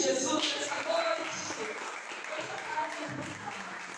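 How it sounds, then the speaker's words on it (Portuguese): Church congregation applauding during an evening sermon, a steady wash of clapping with some voices mixed in, fairly loud and continuous for a few seconds. "Você pode aplaudir Jesus nessa noite."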